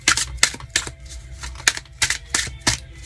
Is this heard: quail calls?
no